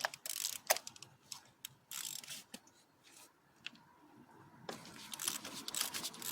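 A ratchet wrench clicks in quick bursts of rapid pawl ticks, close and crisp, with short pauses between strokes while removing spark plugs from a Chevy Cobalt engine.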